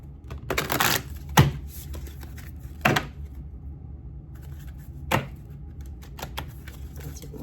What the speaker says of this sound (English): I want to shuffle these.